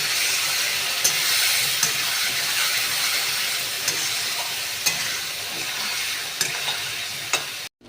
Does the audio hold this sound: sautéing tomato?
yes